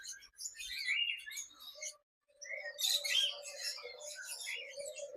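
Small caged birds chirp and tweet inside a bird shop, a cluster of bright, quick calls overlapping at close range with a brief gap partway through.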